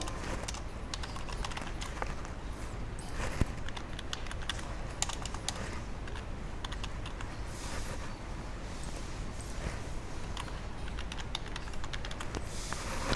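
Quick, steady clatter of keystrokes on a computer keyboard as HTML list-item code is typed for a CSS lesson, continuous and close with no talking.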